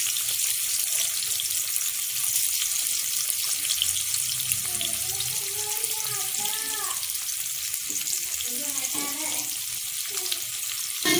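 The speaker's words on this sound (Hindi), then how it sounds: "और उसको अच्छे से फ्राई करना है जब तक डीपली फ्राई ना हो जाए।" Okra (bhindi) deep-frying in oil produces a constant, loud, close sizzle, and a voice talks briefly midway over the frying.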